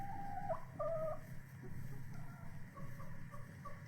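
Chickens cluck softly in short, scattered calls from a barn stall over a low background rumble, faint and somewhat distant.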